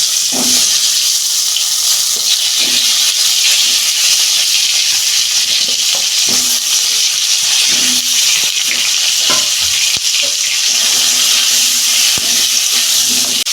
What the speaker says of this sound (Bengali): সবজিগুলো ভেজে নিচ্ছি